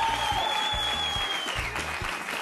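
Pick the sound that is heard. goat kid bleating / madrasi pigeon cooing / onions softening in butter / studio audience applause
studio audience applause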